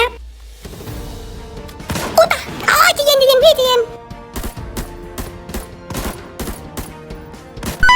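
Bursts of automatic rifle fire and single shots ring out in the shooter video game Arena Breakout, rapid loud cracks repeating through the stretch while a player talks over them.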